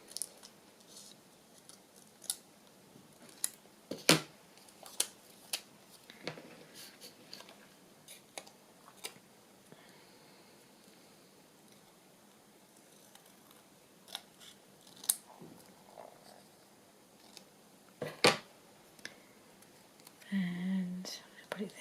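Scissors trimming a paper journal card, with sparse, sharp snips scattered at irregular intervals, close and quiet, amid soft whispered talk and light handling rustle.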